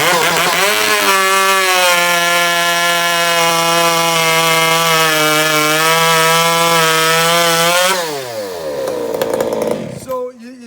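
A ported chainsaw cuts through wood at a steady high rev, giving a loud buzzing whine that holds for about eight seconds, then drops off sharply, sputters and idles down.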